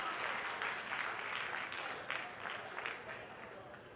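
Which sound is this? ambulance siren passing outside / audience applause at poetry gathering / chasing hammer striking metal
audience applause at poetry gathering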